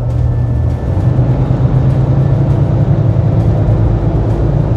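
A car with its EGR valve under test accelerates at full throttle, a loud steady engine drone and road rumble holding close and continuous throughout with no voices.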